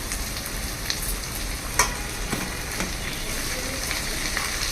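Spinach from a home pot garden, cleaned and dropped into a hot pan, fries with a steady close sizzle broken by a few sharp crackles and pops; no one speaks.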